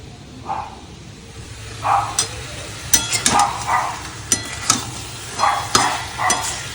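Mutton curry being stir-fried in a pan, with repeated scraping strokes of a spatula and soft bursts of sizzling at an uneven rhythm, close and fairly loud, with no talking.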